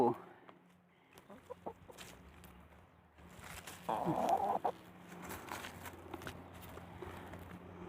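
Laying hens cluck nearby in short bursts, one call rising louder midway, with faint footsteps and shuffling in a quiet setting.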